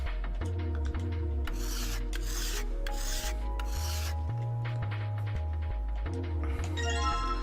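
A knife is filed or polished in the video game 999, with repeated rasping strokes over steady background music, each stroke a separate scraping burst.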